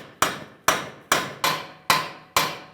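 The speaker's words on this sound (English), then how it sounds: "So I'm using a chisel, cold chisel in between the pinch area." Six sharp metallic hammer blows strike a cold chisel driven into the strut pinch area on a 2000-2007 Ford Taurus front suspension, evenly spaced and close, each ringing briefly before the next hit.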